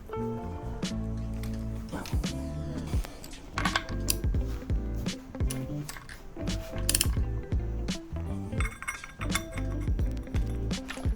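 Bolts are being loosened on a Porsche engine during crankshaft timing adjustment: repeated ratchet clicks and metallic clinks of the wrench come close and loud in uneven bursts, with brief pauses between turns and no one talking.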